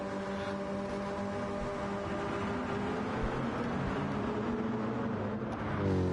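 Race car engines idle and hum in a WEC-style racing video game at the Barcelona-Catalunya circuit, a continuous layered drone with steady tonal harmonics that stays even throughout, with no voices.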